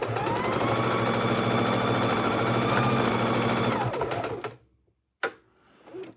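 Sewing machine stitching a square and an X across a tote bag handle, a close rapid mechanical chatter running steadily for about four seconds, then stopping with a short burst after a pause.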